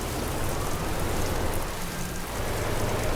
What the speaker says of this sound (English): it's going to be raining the entire way anyway